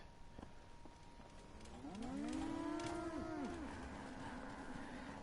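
Cow in the video game Fallout 4 lets out one long, loud, drawn-out moo that swells and fades over a faint background hum.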